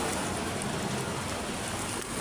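Rain falls steadily in a dense, even hiss of drops spattering on surfaces, soft and continuous with no voices.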